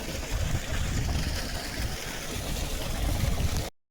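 Running water flows steadily through an irrigation channel or pipe outlet at a farm, a continuous broad rushing wash close by that cuts off abruptly at the end.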